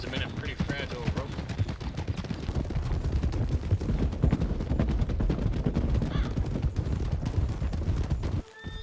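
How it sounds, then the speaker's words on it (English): A horse's hooves clip-clop outside a sheriff's office in a Western setting, a fairly steady run of close, loud knocks with a brief dropout near the end. "There's a horse at the sheriff's office."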